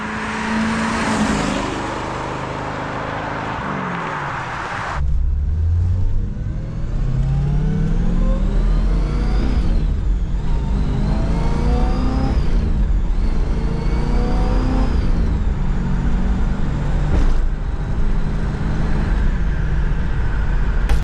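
A 1970 Chevrolet Camaro Z28 with a 4-speed manual, its engine loud and close as it pulls away and accelerates, the pitch climbing and falling repeatedly through the gears over a low, steady road rumble.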